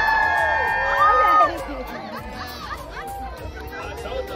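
Crowd cheering and chattering at a pig race at a pumpkin patch, a loud burst of whoops and shouts fading into steady general crowd babble with children's voices.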